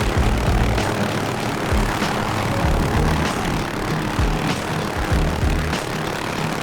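Loud, steady engine and rotor drone from a simulated OH-6A light helicopter in DCS, droning continuously throughout with slight rhythmic pulsing and no speech.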